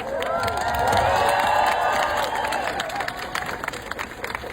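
A large protest crowd in Vancouver rallying for Gaza roars with cheers, whoops and clapping, a loud, swelling mass of voices that peaks early and then slowly tapers off.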